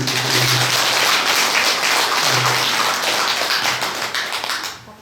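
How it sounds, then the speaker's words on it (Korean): Audience applause at a Buddhist dharma talk at Songgwangsa temple, a dense, steady wash of many hands clapping close by that fades out at the end. "이 박수 한번 쳐야 돼요."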